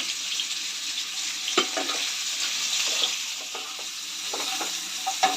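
Jackfruit biryani ingredients sizzle and fry in a pan while being stirred and turned, a steady close hiss broken by scraping clicks of the spoon, with no talking.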